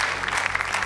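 A studio audience at a televised Armenian singing gala applauds warmly in a steady, dense wash of clapping.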